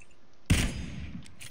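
A single sharp gunshot in the PUBG battle royale game, fairly faint, with a short decaying echo and nobody talking over it.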